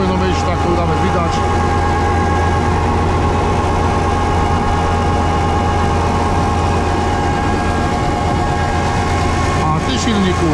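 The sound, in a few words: engine running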